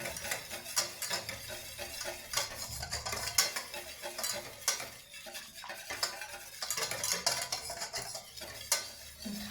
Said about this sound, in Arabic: نخلطوه بحال هكا مزيان باش ما يبقاش فيه ديك الحبيبات